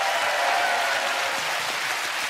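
Studio audience applause on a UK television game show, a dense, even wash of clapping from a large crowd, steady and moderately loud throughout.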